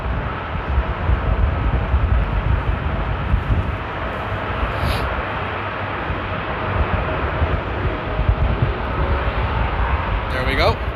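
A Qatar Airways airliner takes off at Amsterdam airport during a storm, its jet engines roaring loudly and steadily with gusting wind noise throughout.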